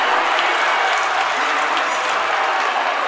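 Crowd at a varsity boys high school basketball game in a gym applauding and cheering after a dunk, a steady dense wash of clapping lasting a few seconds.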